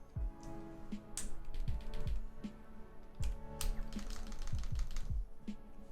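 Keys clack on a plateless Thera75 V2 mechanical keyboard fitted with Emogogo linear switches, as a quick, uneven run of close, crisp keystrokes with deep thocky bottom-outs.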